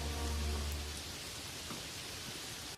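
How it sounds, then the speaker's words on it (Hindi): Steady rain falls over farm fields, a continuous broadband hiss of drops with a low rumbling tone in the first second, then an even wash of rainfall to the end with no voices. "थोड़ी बारिश भी हो जाती है"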